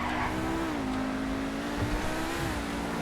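A fully upgraded Pegassi Torero XO supercar in GTA 5 Online revs its engine in a steady, loud whine that dips and climbs in pitch, with faint tire noise underneath.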